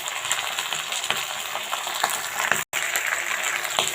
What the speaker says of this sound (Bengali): এবারে কেটে রাখা ফুলকপিগুলো তেলের মধ্যে দিয়ে দিব।